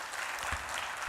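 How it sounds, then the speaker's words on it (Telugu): A congregation at a Telugu Christian sermon claps at a preacher's call, a brief continuous patter of many hands at moderate loudness, ending in a single sharp thump. "నమ్మకమే అన్నవాళ్ళు గట్టిగా చప్పట్లు కొడతారా"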